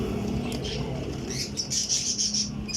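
Sialkoti pigeons, an old breed, call from nearby with soft coos and a run of short, bright chirps and flutters over low background noise.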